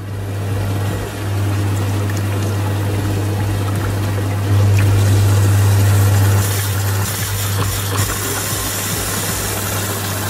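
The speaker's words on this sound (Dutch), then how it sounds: "De pomp start automatisch op en de filters vullen zich met water." A rainwater pump starts up while its filters fill with water, giving a steady loud motor hum with a low tone that swells midway, over a continuous rushing, pouring flow of water.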